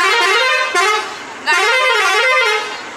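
A tour bus horn sounds at a roadside petrol pump tea stop on a group bus trip through North India, with loud, sustained blasts that briefly dip twice before blaring again.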